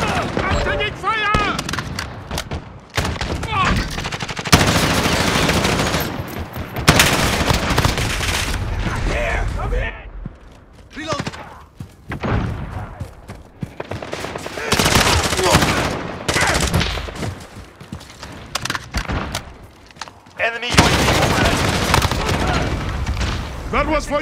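Gunfire in Call of Duty: Modern Warfare, loud sustained automatic bursts and heavy booms crowding almost without pause, with shouted voices mixed into the chaotic firefight.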